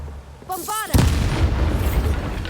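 Bombarda explosion spell cast in the video game Hogwarts Legacy: a spoken incantation and a rising magical whoosh, then a sudden loud boom that trails into a rumbling burst of debris.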